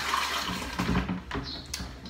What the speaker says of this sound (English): We got all the excess moss in the water. I'm just gonna put it in the toilet.